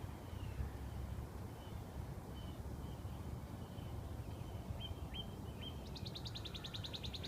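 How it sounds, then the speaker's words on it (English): A cardinal sings from high in a tree on a chilly morning, its clear repeated whistled phrases faint and distant over steady low outdoor rumble, with a brighter rapid trill toward the end. "That's a cardinal. I looked up the sounds the other day. He's way up there on that tree."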